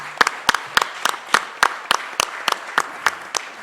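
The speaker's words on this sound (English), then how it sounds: "can you give yourselves a round of applause for just showing up?" A few people clapping at a city budget town hall meeting, sparse and uneven individual claps spaced out in a loose rhythm rather than a full crowd ovation.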